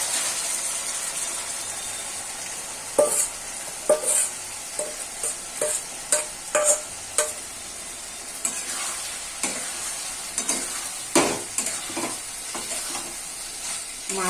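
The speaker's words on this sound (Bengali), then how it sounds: "মাছটা ঢেলে ভালো করে এই মশলার সঙ্গে মিশিয়ে নিচ্ছি আর একবার" Marinated fish in spiced masala is stirred and fried in hot oil, a steady close sizzle broken by repeated scraping strokes of a spatula against the pan.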